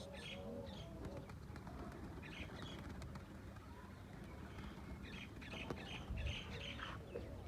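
Pigeons kept on a village rooftop coo softly in repeated low bursts, somewhat distant and faint over a constant background hum, with no talk.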